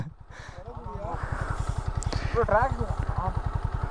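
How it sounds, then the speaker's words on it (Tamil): A motorcycle stuck in river mud chugs and strains in a low, rapid, steady pulse, close and loud, while several people talk and shout excitedly over it. "இல்லாட்டி வண்டி ஆஃப் ஆகுது பாருங்க, அடைக்குது"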